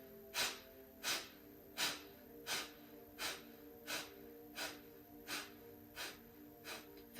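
Rhythmic Kapalabhati yoga breathing: about eleven sharp, forceful nasal exhalations at a steady pace of roughly one per second, close and clear, with no talking.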